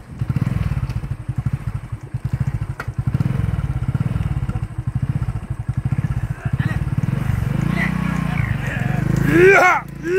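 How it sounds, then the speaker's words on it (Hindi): A motorcycle engine thumps in a fast, steady rhythm close by on a village road, with louder surges partway through and a few sharp high chirps near the end. "मोटरसाइकिल खींचनी पड़ेगी"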